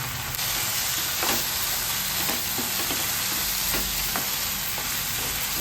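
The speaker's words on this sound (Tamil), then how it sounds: "நம்ம இந்த ஸ்டேஜில் சிப்பி காளான் சேர்த்துடலாம். நல்லா கிளறி வேகட்டும்." Oyster mushrooms frying in oil-rich masala hiss in a continuous loud sizzle, with occasional soft scrapes of a spoon stirring them, heard up close without speech.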